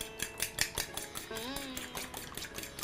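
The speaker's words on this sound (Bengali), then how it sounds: "আমরা আগে ডিমটা ফেটিয়ে নেব।" Eggs being whisked in a bowl for cheese sambusak: quick, bright clinks of a utensil against the bowl in a fast, uneven rhythm, close and fairly loud, with a brief tonal scrape partway through.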